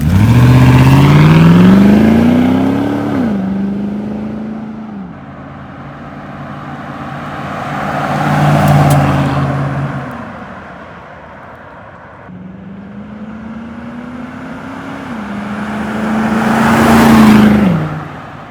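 Lexus GX with a muffler-delete exhaust built around the factory resonator, revving to about 3,000 RPM and then accelerating away, three loud rising engine sweeps with a deep exhaust rumble and no talk.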